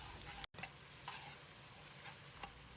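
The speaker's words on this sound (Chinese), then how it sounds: "继续开中小火把酱炒香" Sauce is stir-fried in a wok over medium-low heat with small aromatics and seasoning paste, making a soft, continuous sizzle broken by a brief dropout and a few faint scraping stirs, with no voices.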